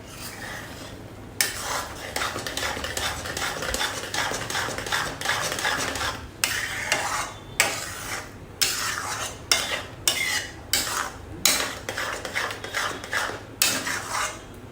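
Wheat flour sheera with raisins, cardamom and almonds being stirred in a pan, a steady scraping and clinking of spoon against metal in repeated strokes, close and clear with no talk.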